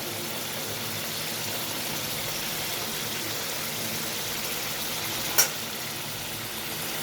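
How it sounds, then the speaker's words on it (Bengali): Raw mustard oil goes into a pan of bata fish jhal, a spicy fish curry, and it sizzles softly and steadily, with a single sharp clink partway through. "এখানে আমি সর্ষের তেল দিয়ে দিচ্ছি অল্প করে"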